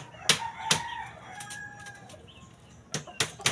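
A fighting rooster crows faintly amid bird and yard noise, set between several sharp nearby claps or flaps.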